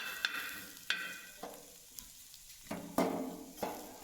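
Onions fry in oil for mutton rassa while a spoon scrapes and stirs the pan, a soft steady sizzle broken by sharp, irregular stirring clatters, close and without speech.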